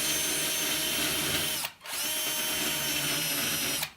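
Small rotary tool with a burr grinding metal on a 1990 Nissan 240SX body during rust repair, a steady high whine broken by one brief pause before resuming, then easing off near the end.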